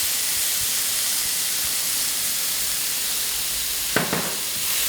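Sliced onions scattered into a hot pan of softened mushrooms for a cheese toast topping give a steady, close hiss of steam and sizzle throughout, with a brief clatter near the end and no talk.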